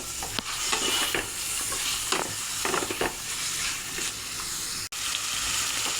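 Chopped ginger and garlic frying with tough chicken in a pan, a steady sizzle with repeated stirring scrapes, close and moderately loud, a brief dropout near the end, no talking.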